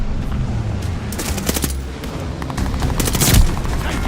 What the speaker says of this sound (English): bombing run on the way